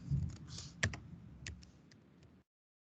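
Typing on a computer keyboard while entering text in AutoCAD, a quick run of close, faint key clicks for about two seconds before stopping, no speech.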